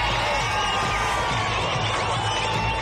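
A large crowd at Annamalai's late-night road show in Coimbatore, a continuous dense roar of cheering and shouting voices that stays loud and even throughout, with no single speaker standing out.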